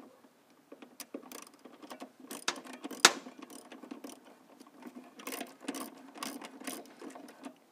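A ratchet wrench with a 1/2 inch socket works a fastener loose on a MIG welder, giving quick, fairly faint mechanical clicks with one sharp louder snap partway through, close up with no talking.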